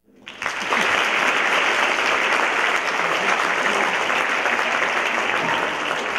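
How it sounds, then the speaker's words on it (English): An audience at an Institute of Art speech breaks into a round of applause that rises quickly and holds as dense, steady clapping without talk. "So a round of applause to them."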